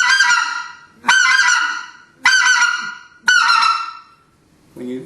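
Four loud, sharp honking bursts from a specklebelly goose call, each a crisp high-pitched blast with a falling tail, spaced about a second apart, followed by a short softer note.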